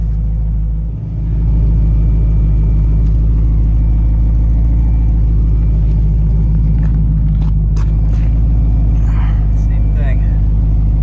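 A 2000 BMW 740i Sport with its mufflers deleted rumbles at idle, a deep, steady exhaust drone close by, briefly dipping near the start while a person talks over it.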